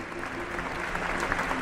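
Steady audience applause at a Ram Katha religious discourse, a dense even clatter of many hands filling the whole short stretch.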